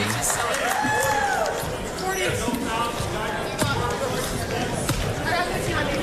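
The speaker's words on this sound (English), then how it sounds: "More crowd filing in for the men's game coming up." Crowd noise fills a college basketball gym as spectators file in before a men's game, with steady chatter, scattered voices, footsteps and occasional ball bounces and thuds under a nearby announcer's talk.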